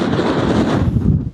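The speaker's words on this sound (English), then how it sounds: "It's really, really windy" Strong wind buffets the microphone in a loud, continuous low roar with gusty rumbling and no voices.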